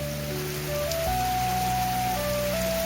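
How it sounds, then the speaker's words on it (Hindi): Rain falls in a village as a steady, dense hiss, joined by faint sustained humming tones. "ओ बारिश होती पई है"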